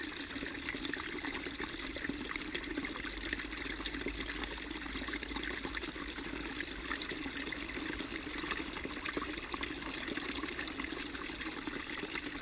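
Water flows and bubbles steadily, a dense, continuous rush that stays even throughout with no voices.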